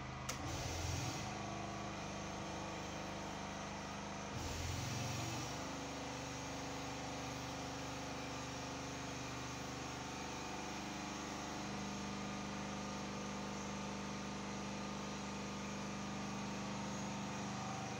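A Honda generator set (genset) runs steadily while powering a whole house, giving a continuous mid-pitched engine drone with a brief surge near the start, heard up close with no talking.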